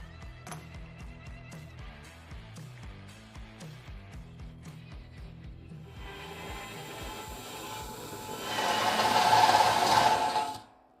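Milwaukee step drill bit boring holes for a homemade smokeless fire pit: choppy, rhythmic mechanical whirring, then a louder sustained grinding burst near the end before it cuts off.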